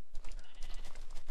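A sheep in the video game Minecraft bleats close and clear in a short wavering call, over a busy backdrop of game noise.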